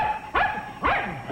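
A brave dog gives two sharp barks roughly half a second apart, close and clear, with no talking around them.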